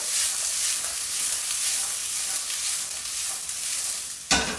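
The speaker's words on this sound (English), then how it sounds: "We're just going to toss them in the wok" Vegetables sizzle and hiss steadily in a hot wok during an Asian stir-fry, a loud continuous frying noise that ends in a brief clatter near the end, with no talking.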